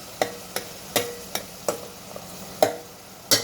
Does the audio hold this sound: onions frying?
yes